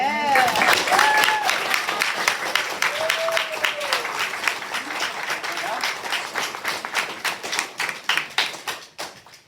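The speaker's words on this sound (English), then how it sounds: "I want us all to give another round of applause for" A crowd at a poetry slam applauds steadily with dense clapping, a few whoops rising early on, the applause gradually thinning and fading out toward the end.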